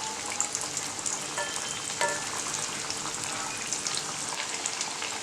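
Yam pieces deep-fry in hot oil with a dense, continuous crackling sizzle, and a few soft knocks come through as the pieces are turned over.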